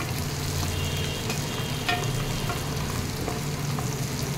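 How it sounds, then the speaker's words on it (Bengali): Bori lentil dumplings stirred and fried in a pan, a steady close sizzle with light scraping of the spoon, with no voices. "বড়িটার সঙ্গে ভালো করে নাড়িয়ে চাড়িয়ে নিয়ে সুন্দর নাড়িয়ে চাড়িয়ে নিলাম।"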